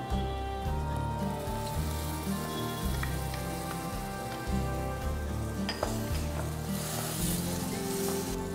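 A ground tomato paste goes into a hot pan for brinjal masala, bringing a continuous crackling sizzle with rain-like spatter and occasional stirring, loud and close throughout.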